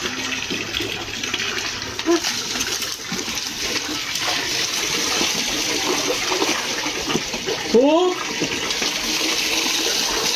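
Water is poured over someone being bathed to rinse off soap, a continuous close splashing gush that runs throughout, with a brief voice near the end.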